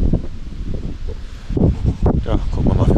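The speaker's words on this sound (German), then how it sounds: "Dafür haben wir ungefähr 30 km Gegenwind." Strong headwind gusting on a folding kayak tour toward Hamburg, rushing and buffeting the microphone while a person talks over it.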